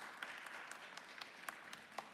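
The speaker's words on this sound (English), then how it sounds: "give him a round of applause for Cook County Commissioner Mike Scott" Audience at a Westside block club community discussion applauding for a Cook County commissioner, a faint, distant patter of clapping with a few sharper claps.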